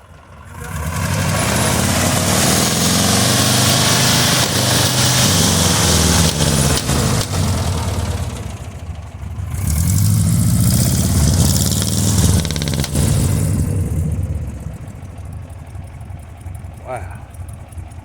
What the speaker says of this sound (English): Dual exhaust on a flathead. 4-cylinder.